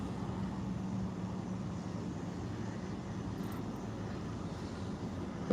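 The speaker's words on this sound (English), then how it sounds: "Comes another plane coming in right now." An airplane approaches an airport to land, a faint, steady distant drone of engine noise that holds evenly throughout, with no voices.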